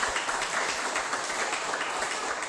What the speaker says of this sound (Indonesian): Tepuk tangan untuk Diva Ananta.